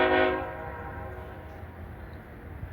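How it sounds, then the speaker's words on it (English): A freight locomotive's horn sounds loud and close in a rail yard, fading over about half a second into the low rumble of the idling train. "Engineer's honking at me."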